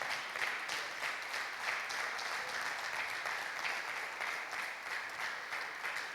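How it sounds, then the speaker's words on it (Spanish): Steady, dense applause from a church congregation at a Spanish-language evangelical service, a continuous wash of many hands clapping at even loudness throughout with no voices above it. "dale un aplauso al Señor"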